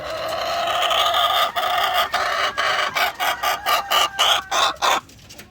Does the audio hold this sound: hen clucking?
yes